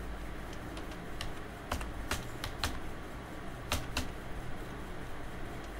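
Keys clack on a computer keyboard while a stock maintenance sheet is built in Excel, with sparse, irregular taps and a few sharper strikes in clusters over low room noise. Nobody speaks.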